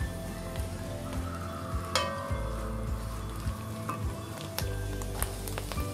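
Onions and mushrooms frying together on a low flame for mushroom soup, a steady close sizzle broken by occasional stirring scrapes and taps.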